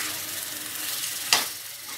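Paneer stirred into sizzling kadhai masala in a hot pan gives a steady frying hiss throughout, with one brief scraping stir.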